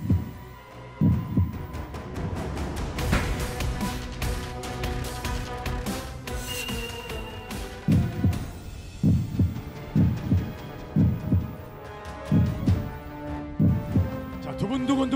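A heartbeat sound effect plays during a television singing competition's results moment, a steady, deep double thump repeating over music, with a voice speaking briefly.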